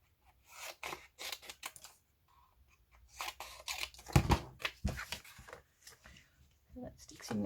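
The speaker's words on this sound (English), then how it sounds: "Cut a bit off the bottom." Scissors cut through a paper book page up close in a craft session, producing short crisp snips and rustles in several bursts, with a person talking in between.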